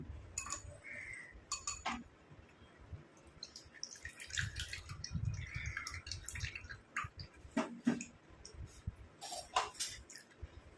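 Curry leaf paste being strained into a bowl, with scattered drips and small splashes plus light clinks, faint and close, with no talking.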